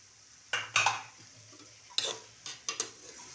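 Hakka noodles with vegetables and vinegar stirred and tossed in a pan on low heat, a few sharp scraping and clacking stirs in short bursts over a quiet sizzle, close by with no talking.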